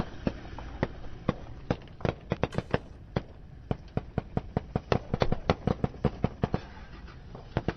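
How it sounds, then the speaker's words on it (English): Gunshots going off near a reporter in Mosul: a long irregular string of sharp, loud cracks, some in quick clusters, echoing over outdoor background. "Those pops are not fireworks, folks. That reporter's got gunshots going off."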